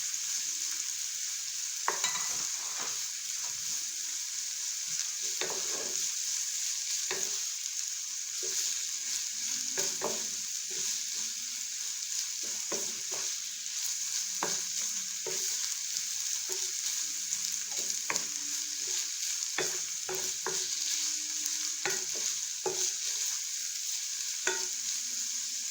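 Saltfish sautéing in a pan while being stirred for Jamaican ackee and saltfish: a steady low sizzle runs throughout, broken by frequent short scraping stirs.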